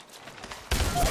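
A sudden burst of gunfire in Apex Legends cuts in after a quiet moment, a dense loud volley of rapid shots that runs to the end, close and harsh.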